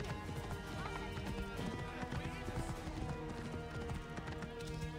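Steady clip-clop of horse hooves from riding in Assassin's Creed Origins, a quick rhythmic trot heard close and fairly quiet, with someone talking over it.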